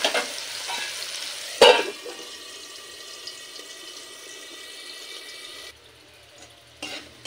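Potatoes frying in a covered pan, a soft steady sizzle with a sharp clank of the lid near the start and another bump near the end, the sound dropping away toward the close.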